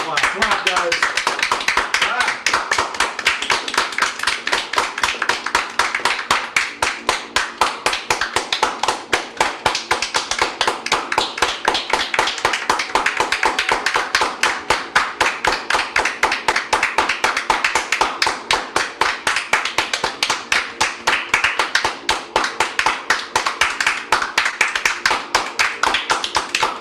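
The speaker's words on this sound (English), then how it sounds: "Everybody clap." A group of people clapping steadily and continuously in a room for the whole stretch, the claps dense and close, with voices occasionally mixing in underneath.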